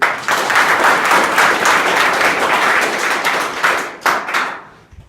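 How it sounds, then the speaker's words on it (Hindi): Loud applause from a room of schoolchildren at a school workshop, dense rapid clapping sustained for several seconds before thinning out into a few scattered final claps and fading. "जोरदार ताली मार के"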